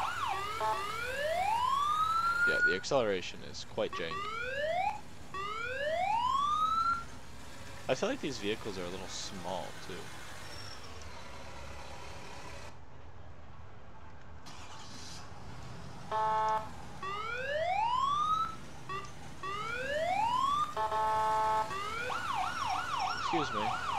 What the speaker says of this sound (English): This is the Carson siren.